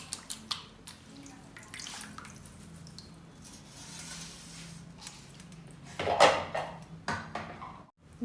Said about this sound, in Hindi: सबसे पहले पत्तियों को पानी में डाल के अच्छे से धो लें।